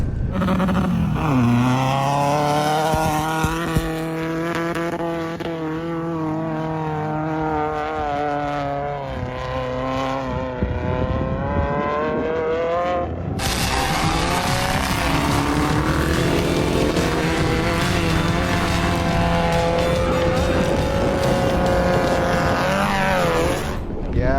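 A sand rail's engine running loud and close, revving with rising and falling pitch, then holding a harsh, rough high roar; the motor has a stuck valve and head problems.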